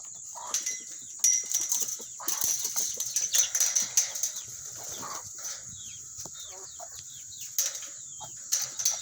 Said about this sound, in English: That chicken's flying around the whole place in here, my goodness.